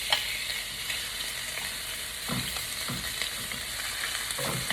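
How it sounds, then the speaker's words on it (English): Pork belly sears in a hot pan, giving an even, close crackling sizzle with a few soft knocks and clinks as the pieces settle. "I'm gonna go ahead and throw my pork belly in"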